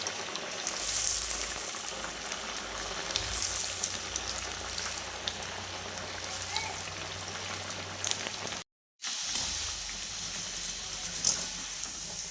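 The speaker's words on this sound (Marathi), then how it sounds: "मस्त असं वडं तळून झाले." Sabudana vadas fry in hot oil with a steady, dense crackling sizzle, close and moderately loud, that carries on with a brief cut near the end.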